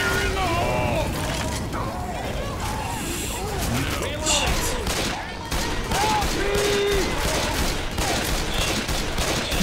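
Guns fire at the Tank in the video game Left 4 Dead 2, a rapid rattle of shots under excited player talk, with the game's music and effects mixed in.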